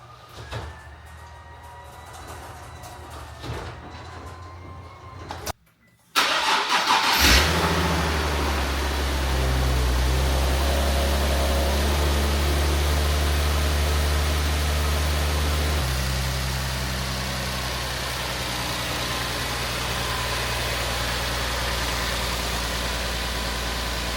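After a few quiet clicks and a short pause, a Nissan 370Z's VQ37VHR engine cranks and catches after an oil change, then settles into a steady, low idle that keeps running.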